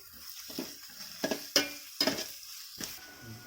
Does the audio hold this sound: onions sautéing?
yes